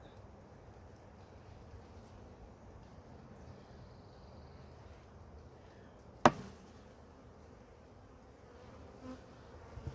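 Honey bees hum softly around an open hive during a hive inspection, a faint steady buzz with one sharp knock partway through.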